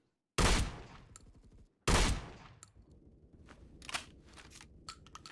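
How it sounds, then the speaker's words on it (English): Fully automatic weapons firing in a video game, with two loud sustained bursts of rapid fire followed by scattered quieter shots and sharp cracks. "I'm getting one shot again by fully auto weapons."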